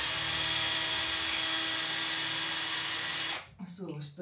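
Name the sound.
power drill drilling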